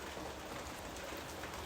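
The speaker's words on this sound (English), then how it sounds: "It happens to be raining quite heavily outside tonight." Heavy rain falling outside at night in autumn, a steady, dense hiss of drops that stays even and fairly quiet throughout, with no voices.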